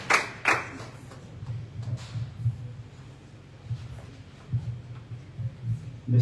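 Audience applause at the inauguration of the Bethesda hospital centre in Jonc-Dodin, a moderate crowd clapping in uneven bursts that swell and fade across the whole stretch, with a few sharp near claps early on.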